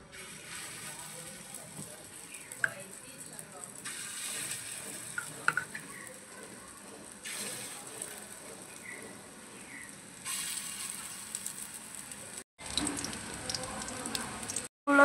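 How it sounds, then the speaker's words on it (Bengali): Egg and potato kopta balls deep-frying one by one in hot oil, a low bubbling sizzle broken by splashes and clinks as pieces go in, with brief cuts and some background noise. "তেলটা গরম হয়ে গেছে, এবার ওই আলু আর ডিম যেটা মেখে রেখেছিলাম ওটা বড়ার আকারে ভেজে নেবো এক এক করে।"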